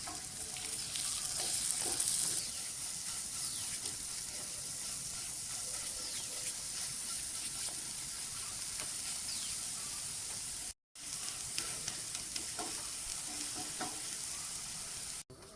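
Chicken burger patties fry in a little oil with a steady, close sizzle and hiss that stays constant throughout, broken only by one very short gap.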